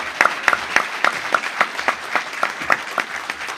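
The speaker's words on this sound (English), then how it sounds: "Can we give them a round of applause for all the information they presented us today?" Audience at a family event for those facing autism and physical challenges claps for the presenters, a thin scattering of distinct, fairly close hand claps in a loose, uneven rhythm.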